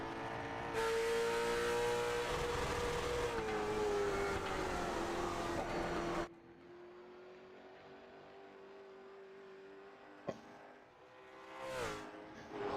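Late model race car in a racing video game: a loud, steady engine drone holding a high pitch through a corner exit, then dropping abruptly to a quieter, lower hum with a brief click and a rising surge near the end.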